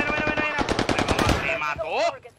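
Rapid automatic gunfire in Call of Duty Warzone, a dense burst of quick shots close and loud, followed by a brief electronic whirring effect as the firing stops.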